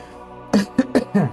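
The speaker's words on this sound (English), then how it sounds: "It's like it's like a clear my throat type of thing." A person clears their throat several times in quick succession, short rough bursts close to the microphone, with quiet in between.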